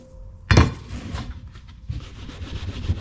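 Steel wool scrubs sticky sap off a machete blade after WD-40 solvent has been applied. A sharp scrape comes first, then a steady run of rough, gritty rubbing strokes, close and fairly loud, with no talk.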